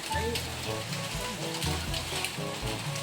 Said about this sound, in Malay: Hujan selebat-lebatnya.